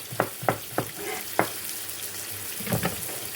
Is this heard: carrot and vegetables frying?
yes